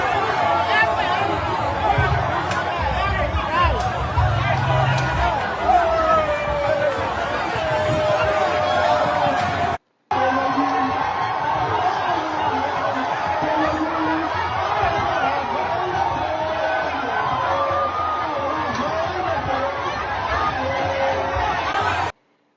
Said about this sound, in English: Can you guys see the crowd?